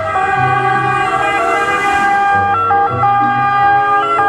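A toy ambulance plays its electronic siren, a loud stepped wailing tone that repeats close up with no voices over it.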